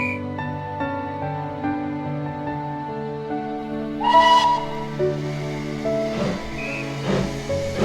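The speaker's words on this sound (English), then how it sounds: "You can see the train coming through there, belching out smoke and whistling." A steam locomotive's whistle sounds in long, sustained harmonic tones, joined by bursts of hissing steam and a louder blast midway, as the train passes across a bridge.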